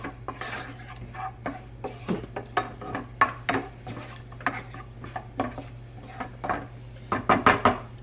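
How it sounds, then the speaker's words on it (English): A utensil scrapes and clatters against a pan in quick, irregular strokes while black beans and brown rice are stir-fried, over a low steady hum. "then you're going to stir fry this"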